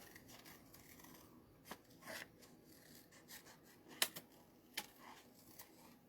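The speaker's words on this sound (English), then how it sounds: "Whenever I fussy cut, I just don't even really move my scissors." Scissors fussy cutting designer series paper, with faint, sparse snips and rasps scattered over a quiet background, one sharper cut standing out midway.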